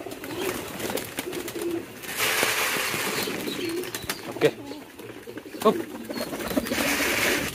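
Pigeons cooing at a pigeon market, low throaty coos amid a busy bustle of birds and occasional wing sounds, with a brief voice nearby.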